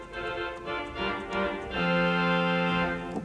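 Trumpet reed stop on a pipe organ, a few brassy detached notes followed by a held, rich sustained chord that rings out clearly.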